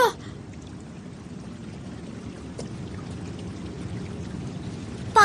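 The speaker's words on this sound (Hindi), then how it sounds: "पानी बह रहा है।" Water flows and trickles steadily in a damaged icy place, a soft continuous pouring wash with no clear pauses, running alone at moderate loudness in an animated scene.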